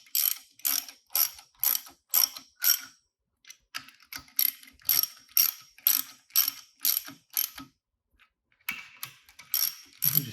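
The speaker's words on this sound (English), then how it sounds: "I'm going to go ahead and snug down the clamp plate bolts." Ratchet wrench snugging down the clamp plate bolts on a Radial Pro shaker drive, heard as bursts of sharp, close clicks with short pauses between strokes and no talking.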